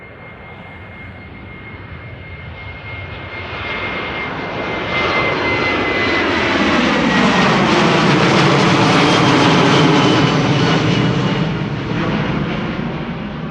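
A Boeing 737-700 jet spools up for departure at Amsterdam Schiphol, its engine roar swelling steadily from a distant whine to a loud, broad rumble that peaks and holds, with no voices over it.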